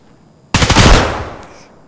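Automatic gunfire in the Escape From Tarkov video game: a sudden close burst of rapid shots after near silence, followed by a trailing echo that fades over about a second.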